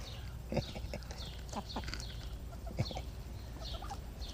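Backyard chickens on a small urban farm make scattered bursts of bird calls and soft clucks at close range, with no talk, over a steady low background hum.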